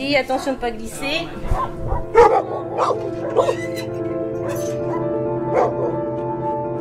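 At an animal shelter, a dog yips, barks and whimpers in short, close, uneven bursts, with a person speaking briefly over the noise.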